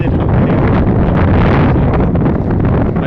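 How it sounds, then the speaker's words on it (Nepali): Strong gusts buffet the microphone outdoors on the way to a market, a loud continuous rumbling roar that swells and eases without a break and covers everything else. "हावा चाहिँ जोडले लागिरहेको छ"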